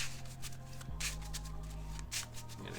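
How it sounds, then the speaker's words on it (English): Deck of trading cards being shuffled close up, with riffling bursts and papery flicks in quick succession over a low background hum. "I'm gonna get thorough shuffling up."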